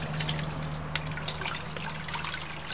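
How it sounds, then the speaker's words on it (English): Water trickling and pouring steadily into flower pots in a humid greenhouse, a continuous close splashing dribble with a low steady hum beneath it. "Fill my flower pots with this water."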